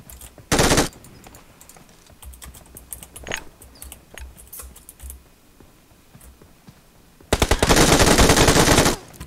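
Two bursts of rapid MG3 machine gun fire in PUBG Mobile, one short and one longer near the end, with scattered clicks and light taps in between.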